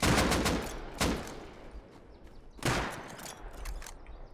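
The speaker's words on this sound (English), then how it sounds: "I'm shooting right at him and he won't even look at me" Gunfire in the survival game Rust comes in several loud bursts of rapid shots with short pauses between them, fairly close, with no talk.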